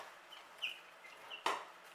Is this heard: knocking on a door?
no